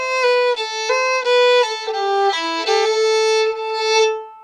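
Old-time fiddle playing the tag of the B part of Devilish Mary with minor notes descending, a bright solo bowed line of short detached notes heard up close without talk.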